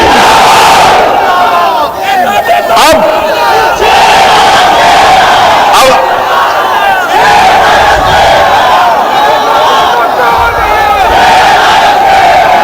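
A large political rally crowd chants the slogan Nara-e-Takbeer in loud, continuous unison, a dense roar of voices surging repeatedly.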